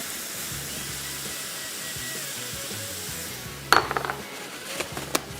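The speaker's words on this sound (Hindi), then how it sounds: "यहाँ पे हमने चिकन की यखनी लेनी है, पैन में डाल दी, और साथ में हमने डाल दिया थोड़ा सा ऑयस्टर सॉस।" Chicken stock and a little oyster sauce go into a hot pan, giving a steady hissing sizzle before a run of sharp metallic clinks and scrapes near the end.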